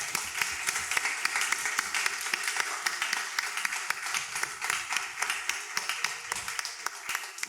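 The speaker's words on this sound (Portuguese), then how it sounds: "vamos dar aquela salva de palmas para ela" A church congregation claps during a Sunday teaching service, a dense, fairly quiet patter of many hands that runs steadily throughout.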